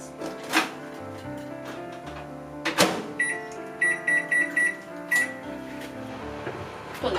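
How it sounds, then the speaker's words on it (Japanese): A microwave oven's keypad beeps several times in a quick series, with a clunk of the door and a steady hum underneath. "電子レンジでどれくらいかな、とりあえず4分ぐらい加熱します。"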